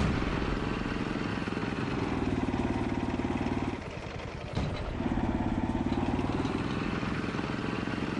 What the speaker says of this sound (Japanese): ボボボボってエンジン音が可愛いです